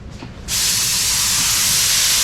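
A spray gun laying a primer coat on the rocker panel of a 1969 Dodge Charger R/T 440, starting after a brief pause as a loud, continuous close hiss that holds steady to the end.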